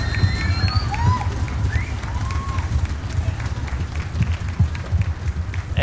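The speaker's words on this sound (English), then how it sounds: "let's give the whole audience a round of applause." Cheering and applause from an audience at a school orchestra finale concert, a dense wash of clapping with crowd noise and whistles rising over it, sustained at a steady level while people talk nearby.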